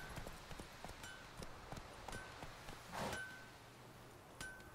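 Horse hooves clip-clop at a steady gallop in The Witcher 3 video game, a rhythmic run of soft thuds with a few metallic clinks, moderately loud and heard alone without talk.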